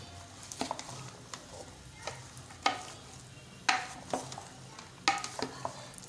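Mixed vegetables sizzle softly in a pan while a spoon stirs and scrapes them, giving sharp intermittent clinks and scrapes over a low, steady frying hiss.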